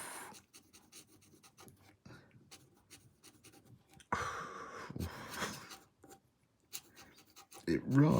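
A Kaweco Perkeo fountain pen with a medium, very wet nib scratches across paper in short, faint strokes, with breathy sighs and gasps between them and a louder rustle near the end.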